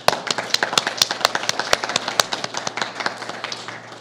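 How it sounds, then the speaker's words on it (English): An audience at an evening candidate forum breaks into applause, sharp individual claps standing out at first, then thickening into a dense, steady patter that tapers slightly toward the end. "So we applaud you."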